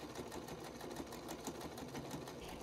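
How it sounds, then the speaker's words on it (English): A sewing machine runs steadily as it hems the double-folded top edge of a stuffed animal's custom fabric pants, a continuous fast mechanical whir, close and alone without talk. "Here's me hemming the top edge of the pants."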